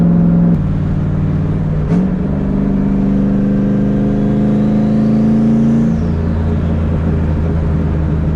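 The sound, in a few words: turbocharged Mustang engine accelerating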